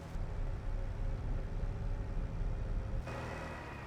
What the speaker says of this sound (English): I'm tempted to swap this tractor out because it's quite loud